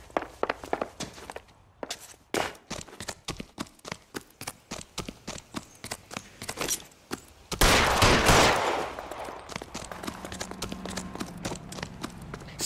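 Gunfire rings out in the video game L.A. Noire as a rapid series of sharp, evenly spaced cracks, followed by a louder, denser burst of noise and a fading rumble.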